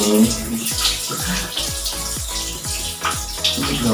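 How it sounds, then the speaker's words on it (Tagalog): Running tap water splashes continuously over DIY box braids being rinsed, close and loud, with the flow pattering as the hair is moved under it. "Hugasan niyo lang siya na maigi."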